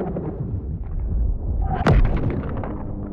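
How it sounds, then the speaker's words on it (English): A ship warping in within an Unreal Engine 5 space game, a rumbling swell that builds to a sharp, bright crack with a descending zap, then settles into a lingering low roar. "we have a really cool new warping effect that I want to just get to right away and show you"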